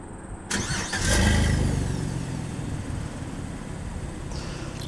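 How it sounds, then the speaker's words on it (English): A 2020 Chevrolet Silverado 1500 Custom V6 starts by remote: a sharp starter crank, a rising roar as the engine catches and flares, then a settled steady idle, heard from close by. "The custom trim, you do get remote start. Just lock the truck, hold the button."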